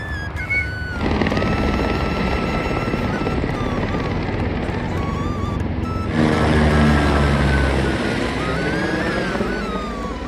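A helicopter's loud, steady rotor drone dominates throughout on the Amarnath Yatra route, swelling heavier partway through, with a high whine riding on top and no talking.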